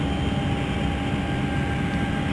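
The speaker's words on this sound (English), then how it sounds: "we're actually pitching down just a couple of degrees to let the aircraft accelerate" A Boeing 737 jet accelerating after takeoff in a flight simulator, a steady broad engine roar with a low hum and no change, alone and fairly loud.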